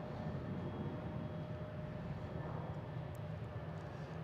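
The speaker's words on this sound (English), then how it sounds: "We got Delta taking off, heading to Pittsburgh." A Delta Embraer E175 jet taking off at Boston Logan gives a steady, distant roar with a faint whine, fairly quiet and unchanging throughout.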